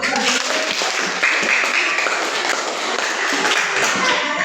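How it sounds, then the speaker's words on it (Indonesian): Classroom group clapping for a correct answer, a dense steady patter of many hands filling the whole stretch at moderate loudness, without a clear break. "Tepuk tangan dulu."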